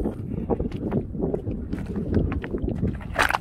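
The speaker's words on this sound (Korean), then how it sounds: "바람이 불어서 제가 지금 등으로 바람을 막고 있습니다." Wind buffets the microphone outdoors on a cold day out of the sun, giving a steady, loud, rough rumble with gusty swells throughout and no other clear sound.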